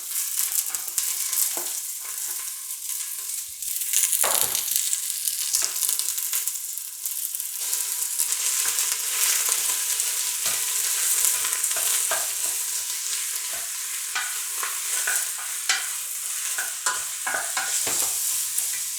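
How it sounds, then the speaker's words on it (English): Onion and sausage sautéing for soup, a bright continuous sizzle close by with repeated scraping stirs and occasional louder clatters of the spoon in the pan, no voices. "I'm just going to start sauteing all this"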